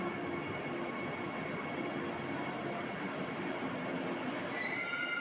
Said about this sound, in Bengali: এই দেখো বন্দে ভারত ট্রেনটা আসছে